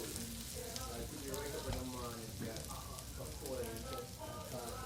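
An omelet sizzles and fries in a pan, a steady crackling hiss running throughout with people talking over it.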